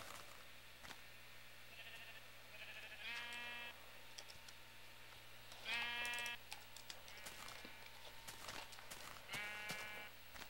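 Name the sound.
sheep bleating in a video game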